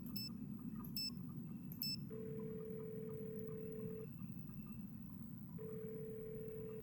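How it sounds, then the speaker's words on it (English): Telephone in a Nancy Drew mystery game: a few short electronic dialing beeps, then two long steady ring-back tones separated by a pause, heard alone over a soft background hum. "And maybe we'll just call Bess"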